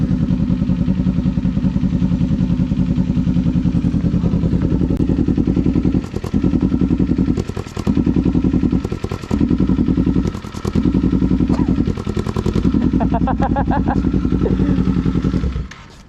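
A motorcycle engine idles loudly and steadily at close range, broken by several short revs and dips and a few clattering knocks, with no clear speech over it.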